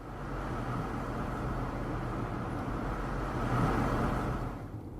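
Copenhagen city traffic heard from inside an all-electric Audi e-tron: a steady, muffled broadband road and engine rumble from surrounding vehicles, fairly constant with a slight swell near the end, no talk.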